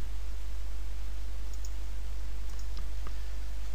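A few sparse computer mouse clicks, faint and spaced apart, ticking over a steady electrical hiss and low hum.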